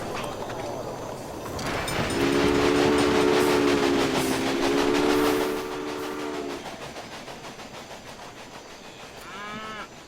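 Locomotive horn sounding in the Railway Empire game, a loud steady two-toned blast held for several seconds over rolling train noise, with brief voice sounds near the end.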